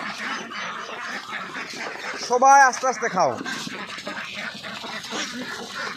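Ducks quacking as they jostle to feed, a short burst of harsh calls in the middle of the clip while a person keeps talking throughout.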